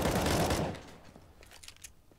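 A burst of rapid gunfire sprays in a competitive CS:GO match on the Overpass map, loud at first and then tailing off, followed by faint scattered shots and clicks.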